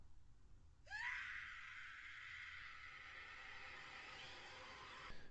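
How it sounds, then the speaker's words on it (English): A single long, shrill scream from a Japanese film dub rises sharply, then holds at a steady high pitch for about four seconds before cutting off, with no talking around it. "So here is the Japanese scream"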